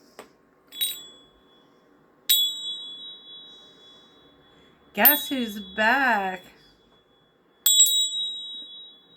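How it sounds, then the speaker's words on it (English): A small bell, like a bicycle bell, rings three times with bright sharp dings that ring on and fade, spaced a couple of seconds apart, while a voice speaks briefly between the second and third rings. "Let's ring the bell."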